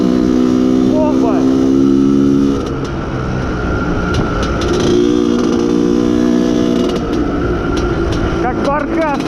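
An Izh Planeta Sport motorcycle engine runs during break-in, a loud, close two-stroke drone that rises and falls in pitch as the throttle shifts, with someone talking over it.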